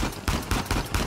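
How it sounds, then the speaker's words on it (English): Rapid gunfire from the Uncharted 4 video game crackles in a quick series of about five sharp bursts, loud and steady with no speech over it. "Who's shooting, bruh?"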